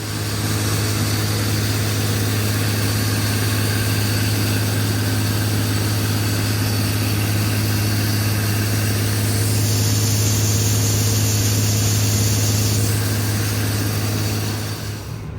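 A $10,000 generator engine runs at a steady idle, a constant low hum and drone that holds loud and unchanging for the whole stretch, with no voices.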